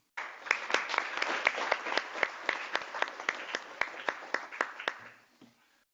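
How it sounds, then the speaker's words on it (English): A conference audience at a UN trade event gives panelists a brief round of applause, with scattered individual claps that thin out and stop after about five seconds. "I want to ask the audience to show appreciation for this presentation by our panelists, ably presented to us, by a round of applause."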